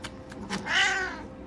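A pet cat being taken to the vet lets out a drawn-out meow that rises and falls over about a second, near and moderately loud over a low background hum.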